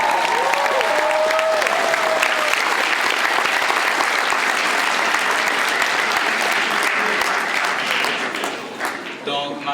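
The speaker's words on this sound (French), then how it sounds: "Hey, on peut applaudir nos organisateurs," Long, dense applause from an audience at a charity benefit event honouring the organisers, steady and loud for most of its length before thinning out near the end, with a brief voice and tones at the start.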